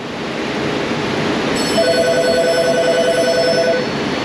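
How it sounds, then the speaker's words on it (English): An electronic telephone rings with a rapid trilling tone over a steady background hiss in an auto repair shop, close and clear, with no voices. "the phone is still ringing."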